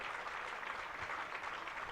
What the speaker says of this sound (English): And the crowd now getting hyped up here.